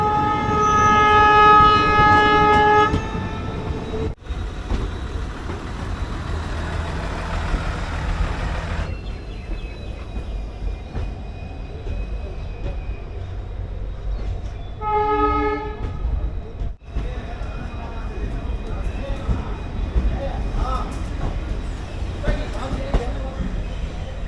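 A train pulls into Pokaran station in the Thar Desert of Rajasthan, a long horn blast opening over heavy rumbling, then steady rolling noise with brief tonal whistles and a later short horn sounding.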